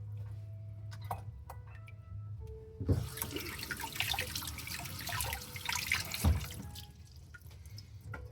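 A sharpening stone is rinsed under running water in a kitchen, a steady splashing rush from a tap filling the middle of the clip, with brief drips and clinks before and after.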